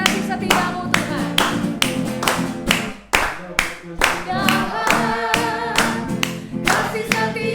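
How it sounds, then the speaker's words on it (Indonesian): Congregation clapping hands in steady rhythm along with a loud worship song at a church service, sharp regular claps running through music and singing. "Semua kita di rumah kita bertepuk tangan."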